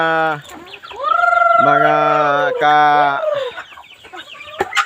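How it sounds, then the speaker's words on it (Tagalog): Native Bisaya chickens cluck and squawk loudly and close by, a rooster-like drawn-out call among them, with a sharp tap near the end. "Dami tayong mga manok dito, Bisaya"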